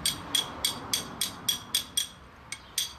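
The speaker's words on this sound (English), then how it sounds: "Let's try and clean the slag off it a little bit." Sharp metallic taps chip slag off a rough makeshift weld done at the roadside in the bush, about a dozen quick hits in a fairly even rhythm, close and crisp with a brief gap near the end.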